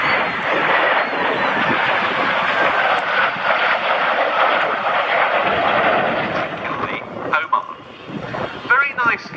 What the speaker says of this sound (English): In towards us for a lovely crossing break of the British Aircraft Corporation Strikemaster.